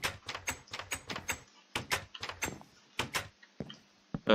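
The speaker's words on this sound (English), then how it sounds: "opening all these doors and back" Wooden doors in Minecraft open and close in quick repeated clicks and knocks, a rapid run of short sharp clacks with brief pauses, heard clearly and close with no talking.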